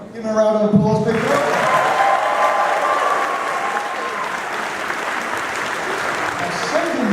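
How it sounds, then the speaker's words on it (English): Audience applause at an anime convention closing ceremony: steady, loud clapping from a large crowd that starts abruptly after a brief spoken announcement and carries on for several seconds. "Give him a round of applause, people."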